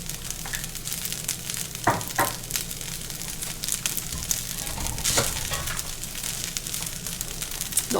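Shrimp fried rice with oyster sauce sizzles steadily in a pan, a dense continuous frying hiss with a few scraping stirs, and no voices.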